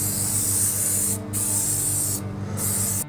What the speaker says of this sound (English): All right, we got them all sprayed down.